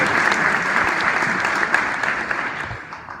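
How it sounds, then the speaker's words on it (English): Audience applause at a university aerospace engineering graduation banquet, dense steady clapping from a full room, fairly loud and close, tapering slightly toward the end. "Yeah, you can applaud"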